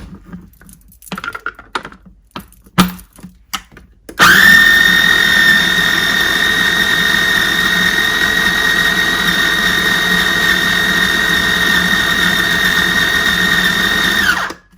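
A few light clicks and knocks come first, then a food processor whirs loudly and continuously, blending a spicy quinoa burger mixture at close range until it cuts off.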